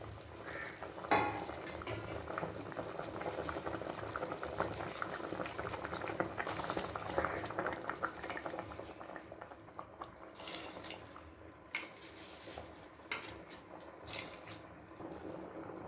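Water boils hard in a pot for Ambur-style chicken biryani, a steady, dense bubbling and churning that holds at an even loudness throughout, with no voices.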